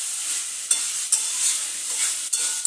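Banana flower (mocha) curry being stirred in a pan, a steady close scraping and sizzling with a few sharp taps of the spoon against the pan, and no voices.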